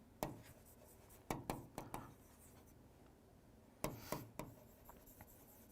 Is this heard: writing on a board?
yes